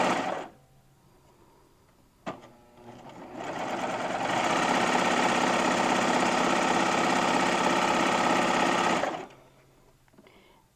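Serger stitching a seam on a soft double brushed poly shirt, a steady fast mechanical whir running about five seconds at full speed after a brief start, close and loud, then stopping.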